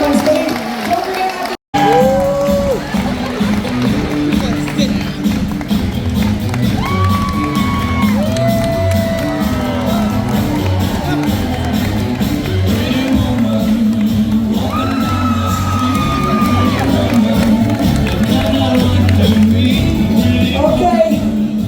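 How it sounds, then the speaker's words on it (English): Cruise ship show audience aboard Mariner of the Seas clapping, cheering and whooping loudly and continuously, with shouts and rising whistles over a steady roar and a brief dropout near the start. "give the boys a big round of applause"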